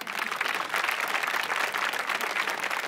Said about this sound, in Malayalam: എല്ലാവരും മാളുവിന്റെ അച്ഛന് നല്ലൊരു കൈയടി കൊടുത്തേ.